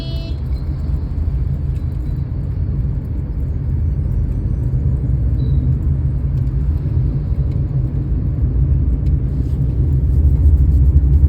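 A car drives along a road during a driving lesson, heard from inside as a loud, steady low engine and tyre rumble that swells slightly as it gathers speed.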